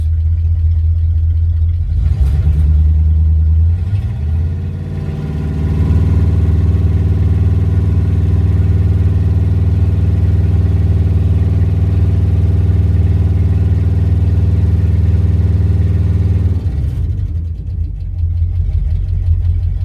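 A car engine, a scrapyard rescue being checked for oil pressure, idles, then rises in a smooth sustained rev under held throttle, and drops back to a steady idle. The sound is loud and close, with no voices.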